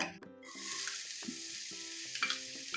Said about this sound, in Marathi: तेल थोडंसं तापल्यानंतर त्याच्यामध्ये एक कप बारीक चिरलेला कांदा